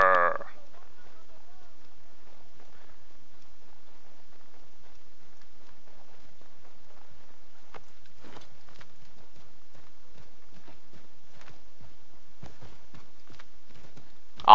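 Horse hooves in Assassin's Creed III, a series of clip-clop footfalls in the second half, moderately close, following a quiet stretch with faint sounds.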